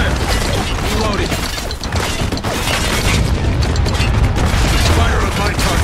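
Mortar fire with white phosphorus rounds in the war shooter Spec Ops: The Line, a dense, continuous rumble of booms and mechanical clatter, loud and close, with shouted voices over it.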